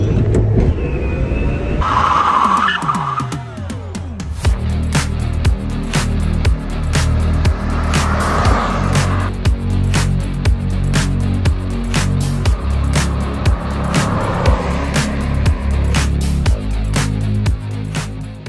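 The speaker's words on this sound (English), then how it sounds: "It's hard to believe that we're riding in a convertible, because it's not that rattly" Cabin sound from a moving 1969 Volkswagen convertible converted to run on Tesla battery modules: a steady low road rumble with scattered clicks and light rattles, fairly loud and close, without speech.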